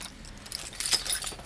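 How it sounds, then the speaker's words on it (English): Small silver keys for the outside compartments of a 2022 Coachmen Pursuit 27XPS RV jangle close up in a brief, bright metallic rattle with a louder burst midway, alone without talk. "these small silver keys will be for the outside compartments"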